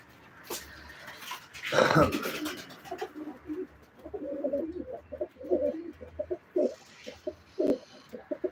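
Pigeons coo in soft, repeated throaty calls at a live pigeon auction, with a few louder rustles or flaps early on and people talking faintly around them.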